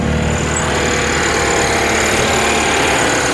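A 1964 Citroen 2CV Charleston clone's small engine idles just after starting, a steady close chugging throb with a rough, even pulse and a mechanical rattle, running alone without voices.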